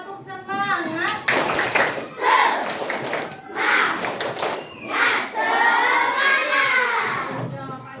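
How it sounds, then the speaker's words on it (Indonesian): A classroom group of teachers and students performing a rhythmic tepuk semangat spirit clap, loud patterned hand claps in bursts with voices chanting along throughout. "coba tepuk semangat dulu pagi ini"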